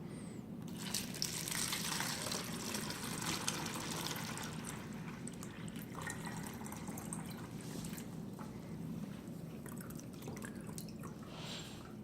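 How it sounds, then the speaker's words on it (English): Water being poured into a plastic bottle for a sinking-diver experiment, a steady trickling and gushing flow lasting throughout, close and fairly quiet, with no talking. "we'll go ahead and add some water to our bottle."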